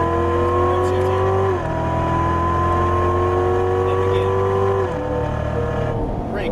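Chevrolet Corvette Stingray Z06 on a race track, its engine droning loud and steady under throttle with pitch climbing through gears, two clear drops where it shifts or lifts, and a brief faint murmur of speech behind the engine.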